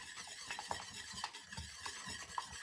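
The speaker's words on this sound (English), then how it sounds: "make sure that you whisk it in there" An egg being whisked into a no-bake Nanaimo bar mixture in a bowl, giving quick scraping, tapping strokes of a whisk at an uneven rhythm, close and fairly quiet, with no talking.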